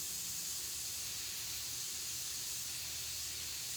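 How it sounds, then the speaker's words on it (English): Airbrush gun spraying paint onto a shirt at about 30 psi, a steady, even hiss of air and atomized paint that runs unbroken and fairly quiet throughout, with no talking. "I am at about 30 psi on my airbrush gun"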